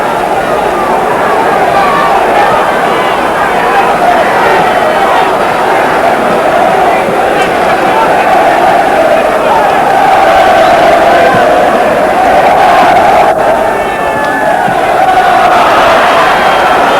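Thousands of Grimsby Town fans at Barnsley cheer a goal in a 1980 Division Three football match, a loud roaring crowd with shouts and applause that swell mid-way, heard from afar with a commentator talking over it.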